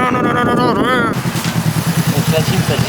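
A motorcycle pulls up with its engine running, shifting from a rising rev into a lumpy, pulsing idle that sits close and loud, with people talking over the start.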